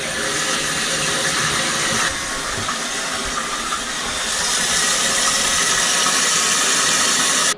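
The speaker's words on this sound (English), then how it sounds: "We're gonna turn on the water and check for leaks." A toilet tank refills with water after a flush valve assembly replacement, producing a steady, loud rushing hiss that continues unbroken and grows slightly fuller toward the end, with no voices.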